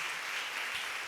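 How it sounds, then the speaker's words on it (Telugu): An audience bursts into steady, dense applause to honour people marking birthdays and anniversaries, the clapping filling the room evenly without pause. "అందరికీ ఒకసారి క్లాప్స్ కొట్టండి అటువంటి వాళ్ళందరికీ."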